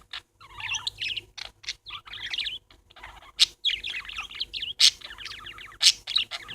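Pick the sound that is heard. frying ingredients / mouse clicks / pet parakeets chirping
pet parakeets chirping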